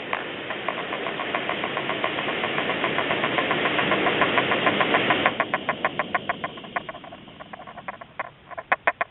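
Primus OmniLite Ti camping stove burning with a 3-row flame cap, a steady close roaring hiss that fades midway into a quieter rhythmic ticking and sputtering pulse, with no talking.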